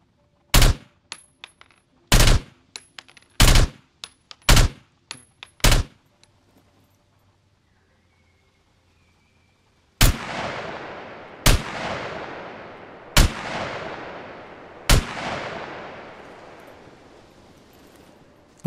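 Single assault rifle shots from the survival game SCUM, an accurate rifle-like automatic: five sharp, evenly spaced cracks, a pause, then four louder shots each trailing a long echoing decay.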